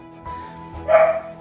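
A dog barks and yips inside a house for sale, a short close bark followed by a brighter whining yelp, fairly loud against a quiet room.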